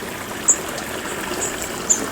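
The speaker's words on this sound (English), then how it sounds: "where the water is just eroding its own pathway, creating its own pathway, and pools" A stream of water trickles over gravel as it carves its own curving path, a steady close rushing babble with a couple of faint high chirps above.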